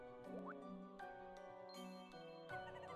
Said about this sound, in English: I didn't realize water pump machines are Vegas slot machines